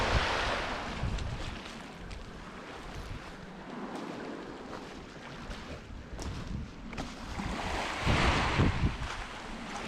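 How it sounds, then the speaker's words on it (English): Wild North Sea waves breaking and washing on a Scottish shore, a steady broadband roar of surf with wind buffeting the microphone, swelling louder toward the end. "Look at the waves here folks, this is the wild North Sea at this side"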